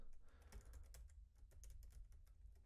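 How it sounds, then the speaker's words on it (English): Quick, irregular keystrokes tap on a computer keyboard, close and fairly quiet, in a short burst with no talking. "So let's type that out."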